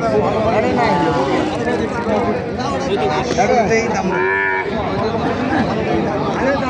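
Busy outdoor crowd chatter fills a cattle market, with a cow's low moo rising briefly through the voices near the middle.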